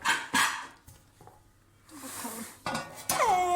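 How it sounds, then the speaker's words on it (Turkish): A baking tray is readied for a cake in a home kitchen with a small child, with close metallic clanks and clatters of the tray and utensils between soft voices. "Tepsimizi hazırlayayım"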